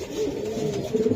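Soft, low cooing from a pair of hammer pigeons, a silver hen and a black one, close by in short rolling murmurs with no talk over them.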